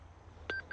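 Metal detector responding to a tiny gold flake while prospecting in California's Mother Lode country, giving short electronic beeping tones, two brief signals near the end over a faint low background.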